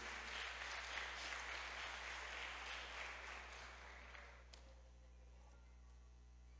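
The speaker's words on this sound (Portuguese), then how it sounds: "Vamos aplaudir ao Senhor por isso?" A church congregation applauds during a sermon, a dense wash of clapping that fades out over a few seconds into near quiet with a faint background hum.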